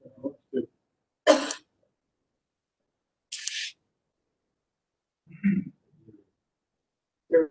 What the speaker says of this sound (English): coughs every time